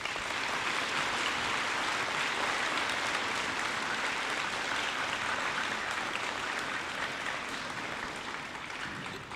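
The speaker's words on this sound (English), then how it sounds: "Let's give them a round of applause." A high school Veterans Day assembly audience gives steady, dense applause for several seconds, the clapping fairly distant and even before fading slightly at the end.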